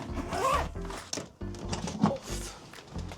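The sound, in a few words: zipping up a packed holiday suitcase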